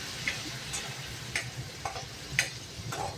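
Onion sautéing over low gas gives a soft, quiet sizzle, broken by a handful of light scrapes and taps from stirring spaced about a second apart.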